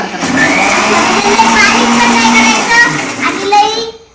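A kitchen mixer grinds asafoetida and cloves for raw mango pickle, a steady loud whirring drone running almost the whole time before cutting off near the end, with children's voices faintly in the background.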